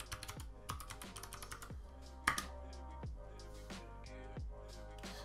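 Keys clatter on a computer keyboard while a password is typed for a Raspberry Pi login, a close, steady run of clicks with short pauses and one sharper stroke midway, alone without speech.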